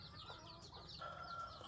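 A captive red junglefowl (labuyo) hen clucks softly, a few faint, quick calls over a low background hum.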